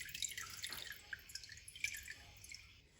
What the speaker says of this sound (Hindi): इस तरह आपने छन्नी लेनी है कि सारा पानी नीचे निकल जाए।